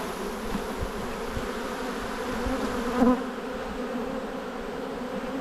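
Honeybees from a hive buzz continuously in a dense steady drone as a frame of brood is shaken, with a brief swell of louder buzzing midway and no talking.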